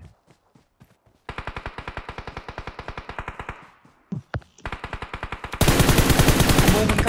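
In-game gunfire from PUBG Mobile rattles out in long rapid bursts, loud and near, broken by a short pause and single shots, then a dense sustained volley at the end.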